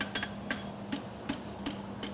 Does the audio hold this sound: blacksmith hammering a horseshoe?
yes